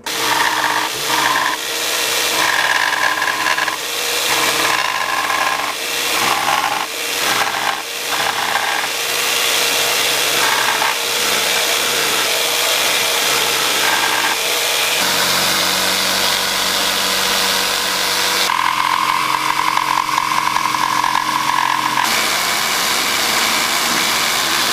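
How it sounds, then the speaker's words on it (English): A jigsaw cuts a wooden piece for a homemade vacuum former, its motor buzzing steadily and loudly with uneven rasping as the blade bites the wood, the pitch shifting partway through as the cut changes. "when I'm using the jigsaw, I don't have to clamp a piece down because it's supported around here"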